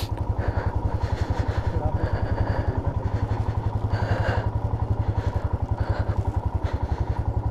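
Motorcycle on a rough off-road route in Ladakh, its engine chugging steadily and close throughout with clattering bumps over uneven ground, while people talk over it.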